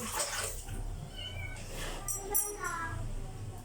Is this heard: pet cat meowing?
yes